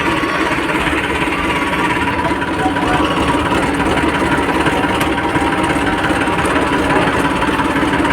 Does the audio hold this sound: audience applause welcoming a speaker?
no